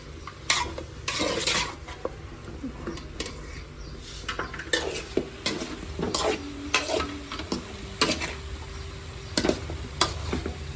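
Spicy chicken fry sizzles in a pan while being stirred, with repeated metal scrapes and clinks of a spoon against the pan over a continuous frying hiss, heard up close without talk.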